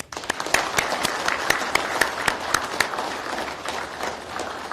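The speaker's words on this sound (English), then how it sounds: "please give them and everyone who helped instruct a round of applause as well for their hard work" An audience at a law enforcement academy graduation ceremony gives a round of applause for the instructors, with a crisp mass of clapping and sharp individual claps standing out close by.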